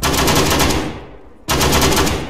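Rapid automatic gunfire in a shooter video game, loud continuous bursts that stop briefly and resume, close and alone.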